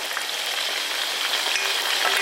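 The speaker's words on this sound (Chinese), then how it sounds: "热油放上小葱开始炸。 把洋葱也倒进去开始炸。" Scallions and onion frying in hot oil for scallion noodles, a dense, steady crackling sizzle heard up close with no voices.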